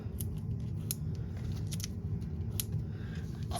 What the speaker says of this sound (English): Let's see, I have a pair of scissors.